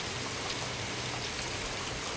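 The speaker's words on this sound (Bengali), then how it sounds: "আর এই দেখো কীরকম বৃষ্টি পড়ছে দেখতে পাচ্ছ প্রচণ্ড জোর বৃষ্টি হচ্ছে" Heavy rain pours down steadily, a dense, continuous hiss of drops with no pauses and no voices.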